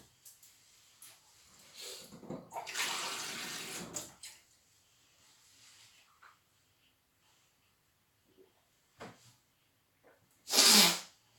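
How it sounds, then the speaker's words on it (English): Orange juice poured into a glass, a couple of seconds of splashing liquid, then near silence with a few faint bumps and a sharp loud burst near the end; no talking. "that was just me pouring some orange juice"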